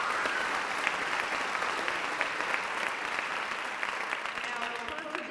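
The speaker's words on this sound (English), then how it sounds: "Let's give them a round of applause for raising the money that we'll be giving tonight to these deserving teachers." Audience applause for foundation sponsors at a Canyons School District Teachers of the Year honors ceremony, a dense, even patter of many hands filling an auditorium throughout.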